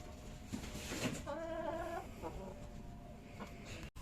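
A hen clucks and a short warbling call rises above a quiet farmyard, a few soft clucks scattered around it.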